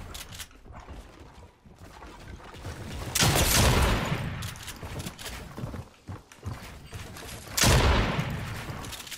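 Bursts of gunfire in a shooter video game, with two loud volleys standing out against a steady backdrop of distant shots and game noise.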